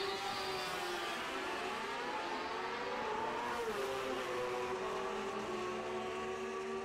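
A 2014 Yamaha FZ-07 motorcycle with a small four-stroke engine runs at a drag race, its steady engine drone sweeping up and down in pitch over a constant wash of crowd and track noise.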